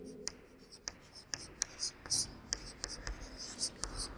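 Pen or chalk writing strokes during a Class 8 maths lesson on comparing quantities, a run of short scratchy marks at an uneven pace, heard up close and fairly quiet with faint background voice.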